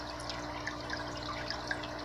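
Water splashes steadily out of a blue filter catcher into a 55-gallon aquarium holding an albino flowerhorn, a constant close trickle with small bubbly plinks scattered through it.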